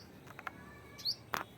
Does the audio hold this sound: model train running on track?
no